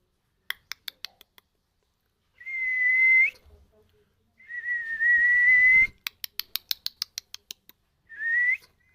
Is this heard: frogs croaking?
no